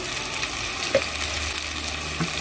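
Spices fry in hot oil while being stirred, giving a steady close sizzle with a few light scraping clicks from the stirring.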